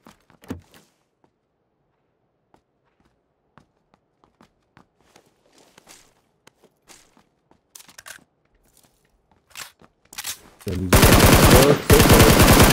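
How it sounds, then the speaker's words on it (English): Video-game gunfire erupts as a loud, dense automatic burst near the end, after a long stretch of quiet, scattered footsteps and small clicks. "You getting shot at or are you shooting?"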